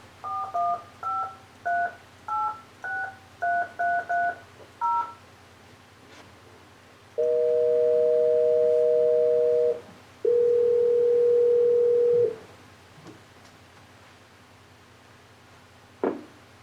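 A telephone keypad dials a table reservation call to the Cliff House restaurant in San Francisco: about a dozen quick two-tone beeps in an uneven rhythm, then two long, steady ringing tones and a faint click at the end.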